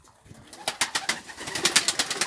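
Pigeons coo close by in a rhythmic run of soft, repeated throaty calls that build in loudness over a couple of seconds.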